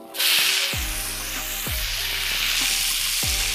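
Lean 93/7 ground beef browns in infused olive oil, a loud close hiss of frying with a few dull knocks of a spoon or spatula against the pot, alone without speech.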